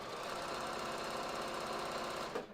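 Domestic sewing machine running steadily as it stitches stretch fabric with SeraFlex thread, a continuous close whirring hum that stops abruptly near the end.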